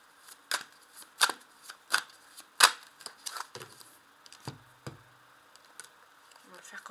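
A tarot de Marseille deck is shuffled by hand, giving close, crisp bursts of card riffles and taps that fade into softer shuffling and a few low thumps.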